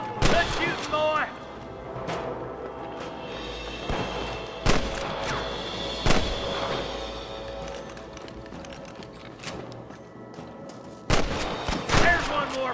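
Gunfire in the Red Dead Redemption video game: repeated sharp shots and bursts crack out at irregular intervals across a busy game soundscape, some loud and close, others smaller.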